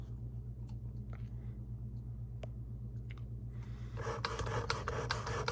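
Single-bevel broadheads are sharpened with a steady, faint rasp under a low hum, which turns into a louder, rhythmic grinding rub near the end.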